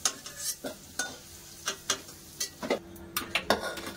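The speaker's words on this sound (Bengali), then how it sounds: "আলুটা ভালো করে লাল ভাজা হয়ে গেছে, এবার তুলে নেব" Potatoes frying in a pan, a soft sizzle beneath repeated scraping strokes of a spatula, irregular but steady, close by.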